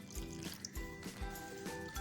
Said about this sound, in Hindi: हम इसमें थोड़ा सा पानी ऐड करेंगे